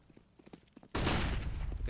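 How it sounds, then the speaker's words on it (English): Gunfire erupts in a Counter-Strike competitive match as a player fires a few shots through smoke, a sudden loud burst of rapid shots that continues densely after a quieter stretch of faint movement sounds. "Lowrider fires a few shots for good measure through the smoke"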